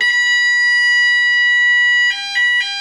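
A loud, piercing electronic fire alarm tone sounds continuously in a home, then breaks into rapid beeping pulses near the end.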